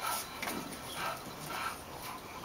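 Puppies whimpering and yipping in short, high, repeated bursts, fairly faint and close, with soft panting between cries.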